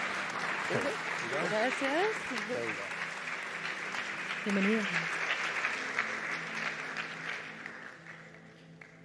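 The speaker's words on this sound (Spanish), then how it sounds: "Le damos un aplauso a Christine." Audience at the Congreso Futuro 2023 conference applauds steadily to welcome a speaker, a dense wash of clapping from start to finish while someone briefly speaks over it near the beginning and again midway, fading slightly at the end.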